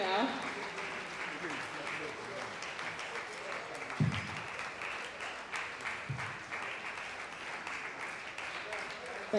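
Audience applause at a public speaking event in honour of Babatunde Raji Fashola, SAN: a steady, dense wash of clapping that carries on for the whole stretch, with a couple of sharper bursts and faint voices underneath.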